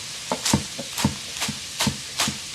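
A knife chopping green onion on a cutting board, six crisp, evenly spaced cuts about a third of a second apart, close and clear with no talking.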